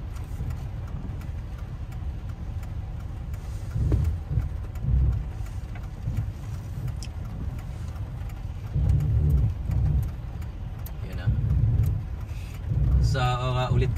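City traffic on the streets of downtown Vancouver at night, with a steady low rumble of car engines and tyres that swells as vehicles pass close by and someone talking over it.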